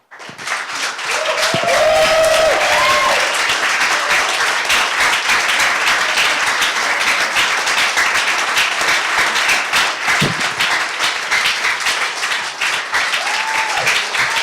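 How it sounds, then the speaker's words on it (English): Audience at a Startup Grind tech event in Silicon Valley applauding a speaker, a loud sustained ovation from a large crowd that swells quickly and holds steady, with occasional voices within it. "Let's give a big round of applause for Chrys."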